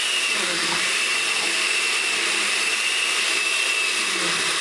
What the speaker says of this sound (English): ensure that the mixture in the blender's jar is able to blend freely